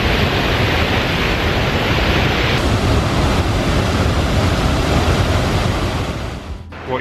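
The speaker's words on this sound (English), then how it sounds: "I don't know if you can hear us over the waterfall" A nearby waterfall roars loudly and constantly, a dense wash of rushing water with some wind buffeting, easing slightly at the very end.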